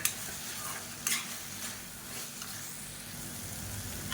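Tomato and grated coconut sauté in a pan for a chutney, with a soft, steady sizzle and brief scraping stirs from a spoon, quiet and close.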